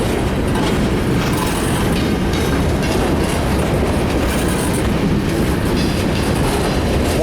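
A CSX westbound mixed freight train with a multi-engine lashup, hauling boxcars, gondolas and tankers, rolls past close by in a steady, loud roar with rhythmic wheel clatter and occasional faint squeal throughout.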